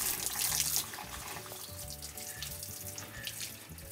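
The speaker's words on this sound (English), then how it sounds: "So I'm just collecting few banana leaves from the garden, washing them thoroughly." Banana leaves picked from a garden are washed under a running tap, giving a steady, fairly soft rush and patter of water with no voices.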